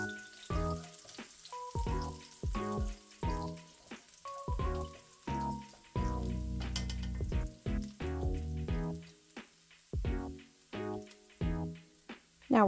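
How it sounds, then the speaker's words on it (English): Garlic browning in a hot pan for a beef kaldereta, crackling and sizzling in sharp bursts with brief pauses, one stretch of heavy, steady frying in the middle, and no talking. "Alright, let's put our garlic in. We're going to start browning the garlic first."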